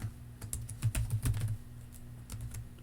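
Typing on a computer keyboard while entering an Excel 2016 formula: quick, close plastic key clicks in an uneven run, busiest in the first half and then sparser taps, with no talking.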